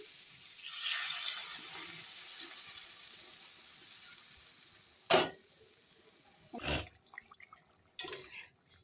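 Eggs and water hitting a hot pan of spice-fried potatoes: a soft sizzle builds early, then sharp bursts of hissing and spattering flare up several times before settling into a quieter crackle.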